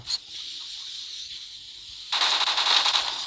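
Rapid bursts from a Browning M1919A6 machine gun in the shooter game World War Heroes: a sustained hissy rattle, then a louder, denser stream of fast shots that runs to the end.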